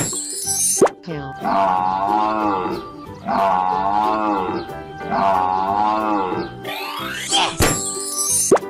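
Cartoonish cow moos from an animal painting video game, three long sustained lowing calls in a row, loud and close, framed by short plops and bright sparkly effect sounds at the start and end.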